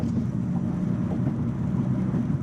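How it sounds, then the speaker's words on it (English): Steady low rumble of a car cabin while driving around Charlotte, with continuous road and engine noise heard from inside the vehicle, no talking. "They do pick up a little bit of the car noise."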